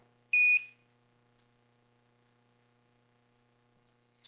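Audio cable tester beeping during a continuity test: one short, sharp electronic beep near the start, followed by quiet faint clicks.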